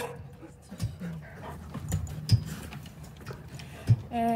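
A newly arrived dog heard indoors in a home, with soft whimpers, panting and a few sharp taps or clicks scattered through a short stretch, fairly quiet with background noise.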